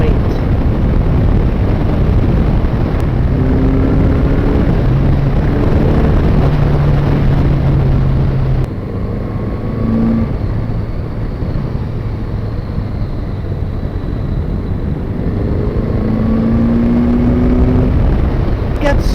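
A 1981 Honda Goldwing GL1100 motorcycle cruising a country road gives a loud, continuous engine drone beneath heavy wind roar, its pitch rising and falling with gear changes and throttle over a long stretch.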